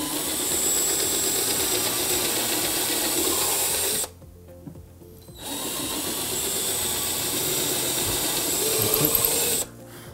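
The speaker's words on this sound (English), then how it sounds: "Sometimes drilling them you have to start off upright and then just turn the drill as you go down on an angle." Power drill boring angled pilot holes into pallet timber for a chair, a loud steady whine running for about four seconds, a short pause, then a second long run of drilling close by.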